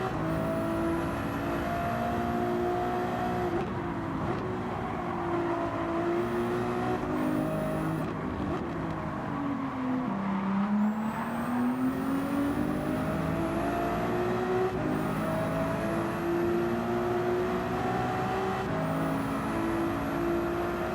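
Race car engines in Gran Turismo 7 hum steadily at high revs, with a whining tone that rises and dips through gear changes and a brief deep drop midway, continuous and without talk.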